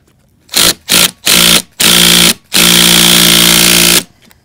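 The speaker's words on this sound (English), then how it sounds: "the nut is adequately torqued with our impact we weren't supposed to use" Pneumatic impact wrench tightening a front strut nut on a Mercedes W205, loud and close, firing in three short bursts and then two longer sustained runs of hammering whir with brief pauses between.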